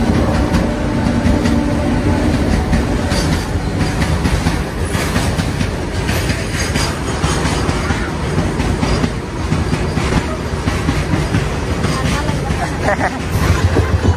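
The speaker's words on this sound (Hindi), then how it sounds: "देखिए दोस्तों ट्रेन आ गई, तो चलिए पार होने देते ट्रेन को" A train rolls past a railway crossing, a loud continuous rumble with rhythmic clickety-clack of wheels over rail joints lasting throughout, close by, with faint voices mixed in.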